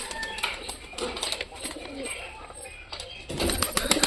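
Domestic pigeons coo in a loose back-and-forth between a male and a female, soft repeated calls close by with occasional rustling, getting louder near the end.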